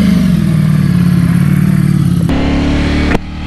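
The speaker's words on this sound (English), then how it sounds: "Street Fighter V4 Ducati Dubai." A Ducati Streetfighter V4 motorcycle at Dubai Autodrome rumbles loudly up close with a steady, throbbing engine note, then abruptly shifts pitch twice as the throttle changes.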